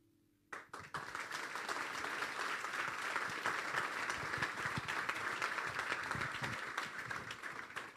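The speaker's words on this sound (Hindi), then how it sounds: "जोरदार तालियां यस्सु के जलाल के लिए" Church congregation at a Good Friday service breaks into applause after a short quiet moment, swelling at once into loud, sustained clapping that carries on steadily to the end.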